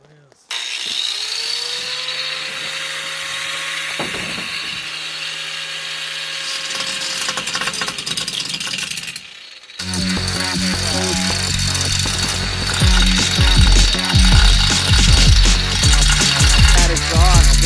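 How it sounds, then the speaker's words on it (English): Angle grinder working over rough welds on a fabricated exhaust stack in a shop, a loud steady whine that cuts out briefly, then returns louder with harsh rasping bursts. "Mr. Paul stepping in to grind some of my greasy ass welds"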